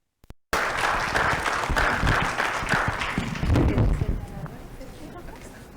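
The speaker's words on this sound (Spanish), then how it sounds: "Un aplauso, por favor" Applause from a symposium audience welcoming a speaker, a dense burst of clapping that starts abruptly after a brief click, holds steady for several seconds and then thins out and fades.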